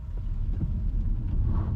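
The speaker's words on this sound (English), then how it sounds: "even more wheel spin this time than in sport mode" A front-wheel-drive BYD Dolphin electric car spins its wheels under hard acceleration in normal drive mode, producing a steady low rumble with road and wind noise and no talking.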